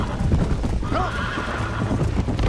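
A horse's hooves clip-clop rapidly during a race in the video game Red Dead Redemption, with a loud whinny partway through; the galloping is close and continuous, with a voice faintly in the background.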